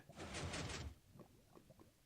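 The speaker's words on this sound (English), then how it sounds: "the door opens" A door opens from a pressure plate in the Secret Rooms mod in Minecraft, a short grinding slide lasting under a second, followed by soft faint clicks and footsteps.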